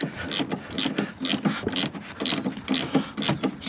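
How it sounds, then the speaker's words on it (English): A 6mm Allen key tightens a bolt on a van, producing a close, regular ratcheting tick-tick in quick repeated bursts, crisp and fairly loud, with no speech. "And then again 6mm Allen key on top. And then just tighten that up."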